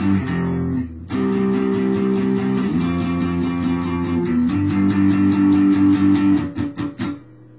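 Strummed guitar chords ring steadily, then a run of short percussive muted chucks near the end, played close with no voices.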